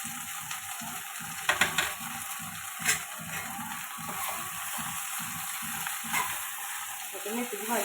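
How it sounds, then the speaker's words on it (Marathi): Fenugreek greens frying in oil with onion in a pan, stirred in repeated scraping strokes that sound close and steady over a continuous sizzle. "मेथीची भाजी आपण चांगली मिक्स करून घेऊ"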